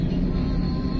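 Steady low engine rumble of a truck driving just ahead on a road in Barangay Calantas, Hermosa, Bataan, a continuous vehicle drone heard from a following vehicle.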